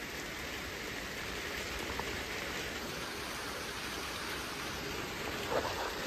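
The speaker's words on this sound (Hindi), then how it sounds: "देखो वर्षा केड़े जोर हो" Heavy rain pours steadily in a village in Khordha district, Odisha, a dense, even hiss of drops close by that does not let up, with no voices over it.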